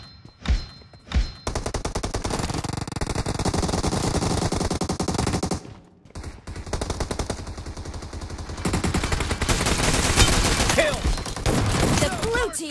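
Sustained automatic gunfire in PUBG Mobile on an iPhone 13 Pro, a few short bursts then long, dense rapid-fire strings running almost continuously and loudly, with a brief gap midway.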